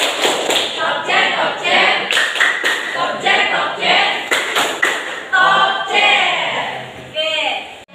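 Schoolchildren in a classroom clapping a rhythmic clap chant together, with loud sharp bursts of claps in quick patterned groups mixed with chanted voices.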